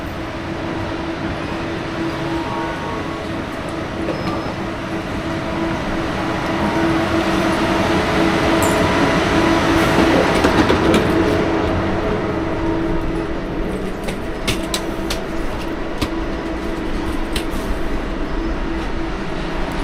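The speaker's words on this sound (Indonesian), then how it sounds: "Nah, ini keretanya sudah sampai." A KLIA Ekspres airport train rolls into the station, a loud sustained rumble of wheels and carriages with rising and falling rail noise, brief squeals and clicks near the end.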